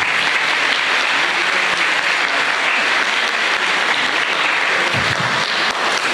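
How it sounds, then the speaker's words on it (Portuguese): Steady, dense applause from a church congregation at a novena night honoring São Sebastião in Machados, continuous and fairly loud for several seconds. "As palmas."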